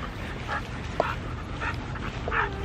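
Several dogs on the way to a park, heard close up in short, scattered barks and yips mixed with a high whimper and a sharp yelp, over a steady background rumble.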